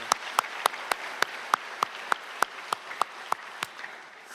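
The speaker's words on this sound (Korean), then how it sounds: "우리 하나님께 한번 영광의 박수 올려드렸으면 좋겠습니다" A congregation at a Friday prayer meeting claps in unison, giving glory to God: about fifteen sharp, evenly spaced claps in a steady rhythm, moderately loud and close, with no talking.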